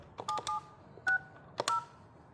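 Touch-tone dialing beeps from a 3CX VoIP phone system: several short, clear DTMF tones in quick uneven bursts, heard alone in a quiet room.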